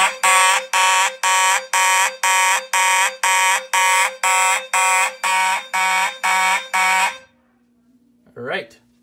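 A Simplex mechanical fire alarm horn/strobe sounds alongside a System Sensor low-frequency unit, blaring a loud, harsh buzzing tone in about thirteen steady pulses before cutting off. A brief voice follows near the end.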